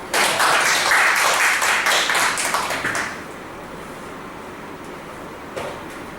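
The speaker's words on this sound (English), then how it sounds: "give her a big round of applause" An audience at a Toastmasters club meeting gives a burst of applause, close and fairly loud clapping for about three seconds that stops abruptly, leaving quiet room tone with a faint tap afterward.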